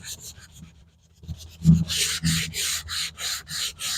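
White oak being sanded by hand, a run of close, rhythmic rubbing strokes with sandpaper, some going across the grain, about five steady passes after a few faint taps.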